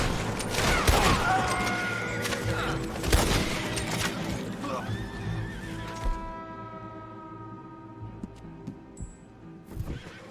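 Horses carry arriving riders in Red Dead Redemption 2, with neighing and whinnying, clip-clopping hooves and bursts of gunfire up close before the scene quiets down. A voice speaks briefly.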